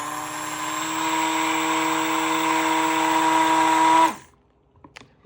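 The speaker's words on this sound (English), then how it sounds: "Burp your stick blender." A stick blender whirring in soap batter for a layered pastel soap made with butters, a steady loud motor hum for about four seconds that cuts off abruptly, followed by faint clinks.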